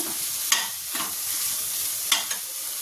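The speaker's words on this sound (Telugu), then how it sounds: "అన్నంలో ఇదంతా మిక్స్ చేద్దాం" Boiled rice being stirred into vegetable fried rice in a pan: a soft continuous sizzle broken by a few scraping spatula strokes at uneven intervals, fairly close, with no talking.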